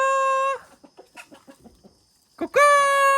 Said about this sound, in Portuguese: Olha a galinha, Luísa.